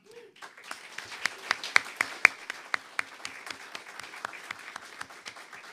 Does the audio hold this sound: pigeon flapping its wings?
no